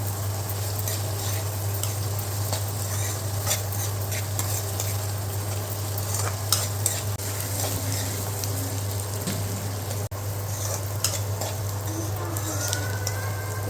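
Onion and mango curry stewing in a pan gives a steady, soft sizzle and bubbling with occasional stirring clinks, close and continuous, under a constant low hum.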